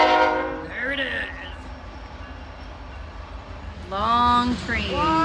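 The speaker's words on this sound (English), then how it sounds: "Oh, here comes the train. Sorry if it gets a little loud." A long passing train blasts its horn in two loud harmonic bursts, one at the start and another near the end, over a steady rumble of rolling cars, with a voice talking briefly in between.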